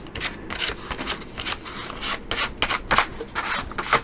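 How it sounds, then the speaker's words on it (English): A tool scrapes paint off a gelli print in quick, repeated rasping strokes, close and fairly quiet, with an uneven scratchy rhythm. "Scrape some of it off, a little more of it off."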